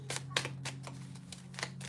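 Tarot cards being shuffled, a quick series of soft riffling bursts in an irregular rhythm, close up, with a low steady hum underneath.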